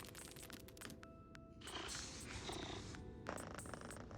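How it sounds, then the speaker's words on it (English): Cave creatures in the video game RAD 2 give off a low rumbling purr, joined by bright tonal game effects and bursts of noise, heard fairly faintly across the short stretch. "I'm not sure I like the purring noises they do"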